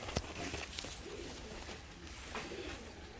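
Ornamental crested costume pigeons coo softly in a loft or cage, faint low rolling calls repeated a few times against a background of wing rustles and tapping.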